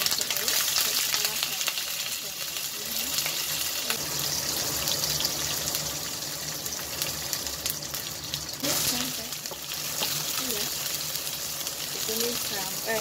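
Chopped lemongrass fries in hot cooking oil in a pan while chicken curry is being prepared. A steady, loud, hissing sizzle runs the whole time, with faint clinks of stirring and some talk over it.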